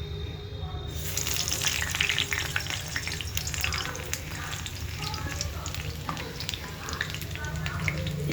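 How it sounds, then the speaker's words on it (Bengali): Whole hincha greens frying in hot oil after being dropped into a pan, a steady close sizzle with crackling pops, and a voice talks partway through. "এই যে গোটা গোটা হিংচা ছেড়ে ভাজবো"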